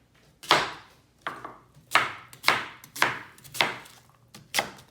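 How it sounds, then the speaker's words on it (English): A knife rough-chops a leftover onion on a cutting board, seven or eight crisp, separate thuds falling in an uneven rhythm, close and clear with no talking. "we're just going to rough chop it"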